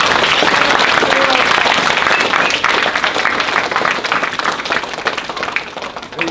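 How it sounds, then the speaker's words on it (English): A crowd at a youth football camp claps and applauds the volunteers and coaches, a dense sustained burst of clapping that holds loud before tapering slightly toward the end. "I want everyone to give a big hand clap for all the volunteers"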